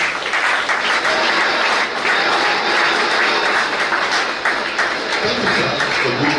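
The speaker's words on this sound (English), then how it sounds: "these gentlemen deserve a very round of applause for you" A crowd at an Obidient Movement political gathering in Delta State applauds the gentlemen on stage, loud sustained clapping from many hands with cheering voices mixed in, holding steady for several seconds.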